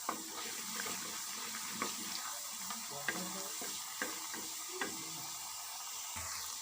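Ginger-garlic paste fries in a pan, a steady broadband sizzle with occasional clicks and scrapes of a stirring spoon, close and moderately quiet with no voices, as the base for a restaurant-style egg masala gravy.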